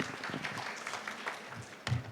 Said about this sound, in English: A huge round of applause, ladies and gentlemen, for Ms. Reena Suri.